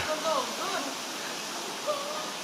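A waterfall on Mount Isarog in Bicol gives off a steady, broad rushing hiss of falling water that fills the whole clip, with faint voices now and then in the background.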